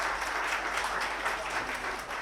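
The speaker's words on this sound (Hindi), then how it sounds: "विमला मैम के लिए एक बार जोरदार तालियां हो जाए।" Enthusiastic applause for a speaker from a crowd at a Women's Day award ceremony honouring women's achievements, a blurred, steady roar of many hands heard somewhat distantly with a low hum beneath it.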